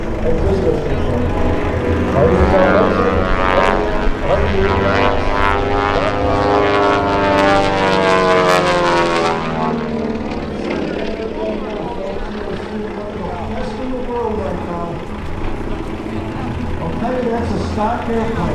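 A stock Twin Beech propeller plane flying aerobatics roars close overhead, its engine pitch sweeping and shifting as it maneuvers, then fading to a steadier drone further away.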